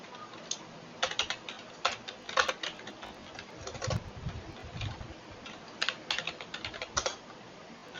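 Someone writing C++ code types on a computer keyboard, with quick irregular bursts of close, crisp key clicks and short pauses between runs of keystrokes.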